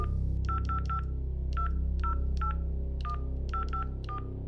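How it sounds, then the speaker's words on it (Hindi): Phone keypad tones as a number is dialed, a sound effect of crisp beeps in quick clusters of two to four presses separated by short pauses, heard alone over a low steady hum. "अपना फोन निकाला और एक नंबर डायल किया"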